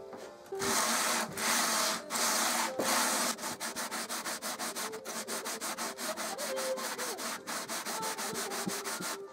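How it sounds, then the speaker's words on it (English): Rhythmic back-and-forth sandpaper strokes on an oak guitar fretboard, using 80 grit paper on a makeshift radius block; long sweeps first, then a quicker, steady scrubbing cadence, close and loud with no talking. "I hot glued the fretboard to my table saw and started sanding away."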